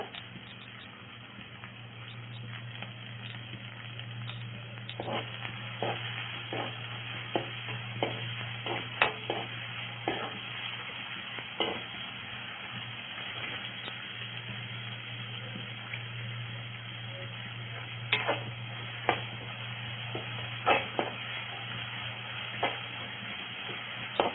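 Tomato and onion sautéing in a pan with salt for mushroom masala, a soft continuous sizzle with occasional spatula clicks and scrapes, close and fairly quiet over a low steady hum.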